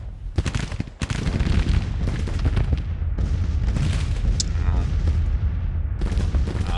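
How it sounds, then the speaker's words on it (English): Heavy artillery cannons boom repeatedly in a Civil War strategy game, a dense barrage of loud, overlapping blasts and rumbling reports that runs almost unbroken from start to finish. "They're shooting the big guns"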